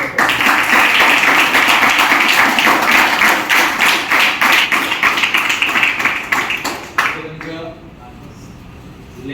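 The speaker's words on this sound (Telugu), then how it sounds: "let us give a big round of applause" An audience applauds at a children's semi-Christmas celebration in a church, a dense, loud burst of clapping lasting several seconds that then thins and fades out.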